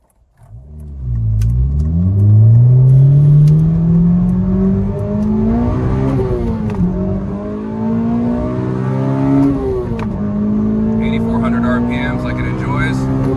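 A K24-swapped 2008 Honda Civic Si pulls hard on the highway, its engine note climbing steadily through the gears with brief dips at each shift, loud and close from inside the cabin.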